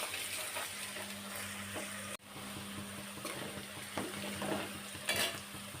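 Ginger garlic paste frying in a pan, a soft steady sizzle close by with occasional scraping stirs and a brief sharp knock partway through, no talking.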